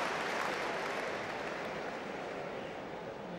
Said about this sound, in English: a little applause from the crowd might have just egged him on a bit.